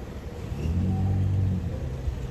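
A Mercedes car accelerates hard close by, a loud, steady engine rumble swelling briefly and then easing off, heard on its own without voices.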